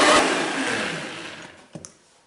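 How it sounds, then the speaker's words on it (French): Blendtec and Vitamix blenders run together, pureeing a batch with maple syrup and hot water; a loud broadband motor roar fades steadily over two seconds, then a couple of short clunks as the machines stop. "On a broyé donc 1 minute dans chaque blender."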